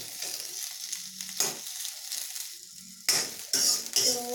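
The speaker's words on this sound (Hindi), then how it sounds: "प्याज को हमें तब तक फ्राई करना है जब तक प्याज के ऊपर हल्का स्पॉट ना आ जाए" Sliced onions sauté in a pan, giving a soft, close sizzle broken by a few louder scraping stirs and light utensil clinks.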